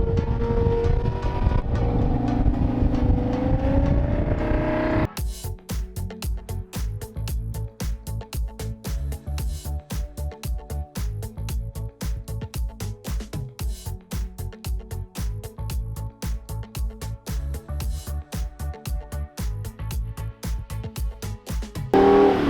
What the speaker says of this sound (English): It's trying. It's trying so hard, but those summer performance tires are not letting it happen.